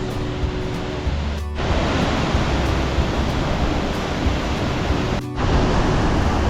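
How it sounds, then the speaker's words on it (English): Sunwapta Falls pours down from the mountains into a large canyon, making a steady, loud, broadband roar that barely changes and almost drowns everything else out. No voices are heard. "These falls come through down the mountains into this large canyon. The noise of these falls is almost deafening."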